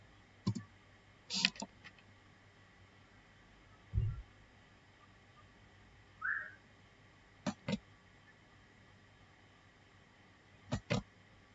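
Computer mouse clicks come as a handful of isolated, close, faint taps, sometimes single and sometimes in quick pairs, spaced apart over a quiet background.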